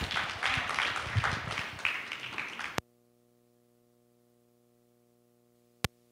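A church congregation applauds to welcome Pastor Celeste, a steady burst of clapping for under three seconds that cuts off sharply into silence.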